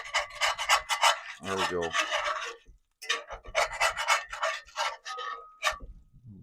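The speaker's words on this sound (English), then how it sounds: "When I say clean off, I just mean those bacon crumbles I want to scrape off the bottom." A utensil scrapes bacon crumbles off the bottom of a frying pan at a cabin, making rough, repeated rasping strokes in close, loud bursts with brief pauses, while a person speaks briefly.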